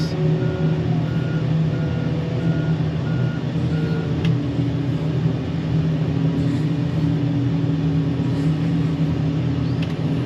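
A wheel loader's diesel engine rumbles steadily up close while its reversing alarm beeps in a regular, repeating pattern throughout.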